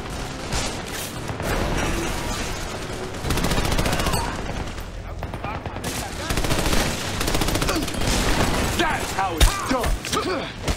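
Heavy automatic gunfire from a mounted gun tears through a church interior during a video game firefight, sustained loud bursts layered with other shots and impacts, with voices calling out over the din.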